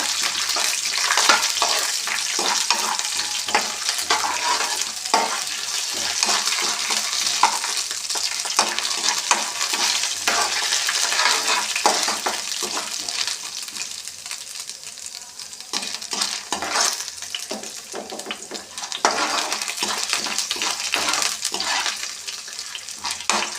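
Chana dal sizzles steadily in hot oil in a pan while being cooked for vermicelli upma, a dense, continuous crackling hiss with frequent scraping and stirring clicks.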